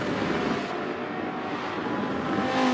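Race car engine droning steadily as it laps Brands Hatch in Forza 7, a continuous loud broadband roar with a faint whine rising near the end, no voices.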